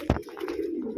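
Pigeons outside, a single soft coo-like call near the start followed by a steady low murmur of bird sound, moderately close and fairly quiet.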